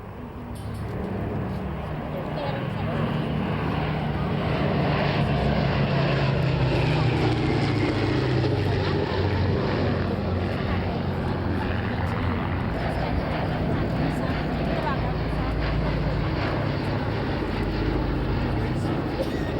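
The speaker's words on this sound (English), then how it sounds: "escorted by little friend, of course, Rob Davis and the P51D Mustang" A P-51D Mustang fighter plane flying at the Shoreham Airshow, its broad piston engine drone building over the first two seconds and then holding steady and loud, with a busy crowd background.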